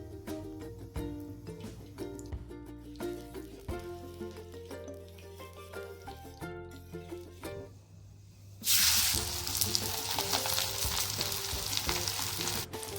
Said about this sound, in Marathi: आपण ती तव्यावर भाजून घेणार आहोत. त्यासाठी तव्यावर आपण थोडंसं तूप घालणार आहे.